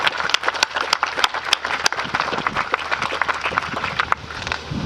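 An audience claps steadily and loudly throughout, a dense crowd applause in a hall at a provincial announcement of a new hospital, with no talking over it.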